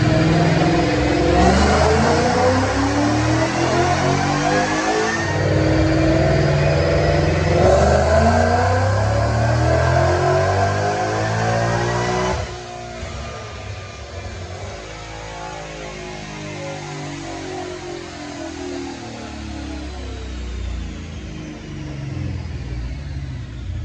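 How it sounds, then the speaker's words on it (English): A supercharged 2011 Roush Mustang with an automatic transmission runs a full dyno pull, its loud engine rising steadily in pitch as it revs hard, then dropping back to a lower roar near the end, with no talk over it. "So I'm going to show you this down and pull"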